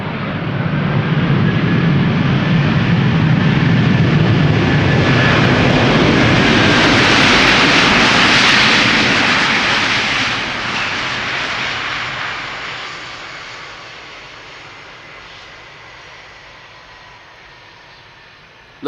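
Airbus A330-300 wide-body jet landing and rolling out with brief thrust reverser use, a loud broadband roar that swells to a peak midway and then fades steadily as the aircraft slows and moves off.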